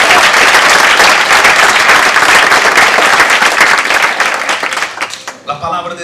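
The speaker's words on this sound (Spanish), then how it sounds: "Vamos a aplaudir al Señor en esta noche." A church congregation applauds during an evening service, loud sustained clapping from many hands that fades out near the end, with voices mixed in.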